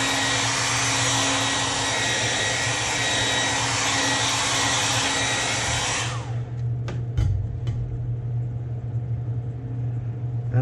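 An electric heat gun heat-sets fresh paint on a shad-style fishing lure blank, blowing with a loud steady roaring hiss for about six seconds before shutting off, leaving a low hum and a few small clicks.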